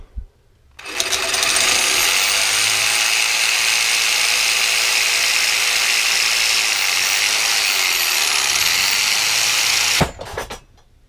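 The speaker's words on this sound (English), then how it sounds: "let's go ahead and cut that baby off" A metal spoon handle is cut off with a power tool while making a fishing lure, a loud, steady mechanical grinding whir that runs unbroken for about nine seconds before stopping abruptly, close with no talking.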